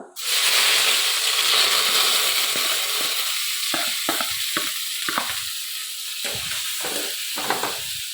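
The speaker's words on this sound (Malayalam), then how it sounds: "ഇനി അതിലേക്ക് കുറച്ച് കടുക് ഇട്ടിട്ടൊന്ന് പൊട്ടിക്കുവാണ്" Mustard seeds crackle and sputter in hot oil in a village kitchen, a loud continuous sizzle that settles into steadier frying with stirring scrapes as chopped onion, ginger and garlic go in.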